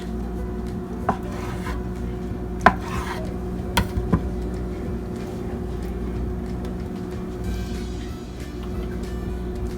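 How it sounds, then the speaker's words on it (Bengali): A knife cuts soft paneer-like pieces into triangles on a board, giving a few sparse, close taps and scrapes over a low steady background hum, with no talking. "আর এই কাটিংটা করবো আমরা হচ্ছে ভাজার জন্য, ফ্রাই করবো আর কি, জাস্ট ট্রায়াঙ্গেল শেপ"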